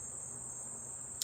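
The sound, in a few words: cricket chirping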